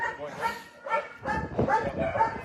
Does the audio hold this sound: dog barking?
yes